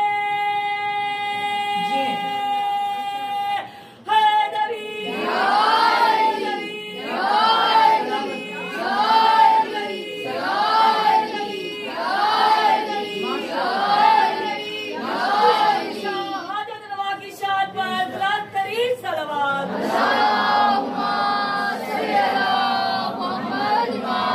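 A large gathering at a religious majlis chants a slogan in unison, rhythmic repeated swells of many voices, loud and close, with a droning tone and a voice leading before the chant begins.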